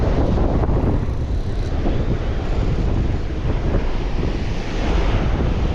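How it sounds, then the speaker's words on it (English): Strong wind at a North Carolina beach during surf fishing, roaring as dense, constant buffeting across the microphone, with crashing surf mixed into a loud, close, unbroken rush. "This wind has really picked up and gotten really strong."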